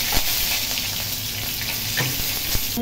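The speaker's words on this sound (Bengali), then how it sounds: "তেল গরম হয়ে গেছে, জিরে আর হিং দিয়ে দিলাম" Cumin seeds and asafoetida dropped into hot oil, a dense continuous close sizzle and crackle with a few faint clinks, no voices.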